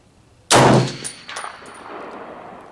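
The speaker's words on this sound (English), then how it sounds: "Let's take another shot here." A single loud rifle shot fired from a scoped gun cracks sharply, then rings and echoes away over about two seconds.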